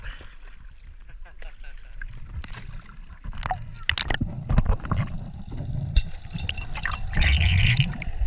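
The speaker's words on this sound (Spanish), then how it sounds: "Ahí hemos escuchado cómo hacía esa carpa, cogiendo un poquito de aire." A carp surfaces underwater on a deep dive, gulping air with irregular gurgles and sloshes that grow louder toward the end, mixed with bubbling and muffled diving noise.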